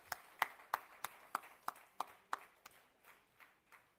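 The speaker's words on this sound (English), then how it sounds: "Ladies and gentlemen, big round of applause for Mr." Sparse, quiet hand claps welcoming a speaker at a business summit in Germany, about a dozen evenly spaced claps that fade toward the end, with no voices.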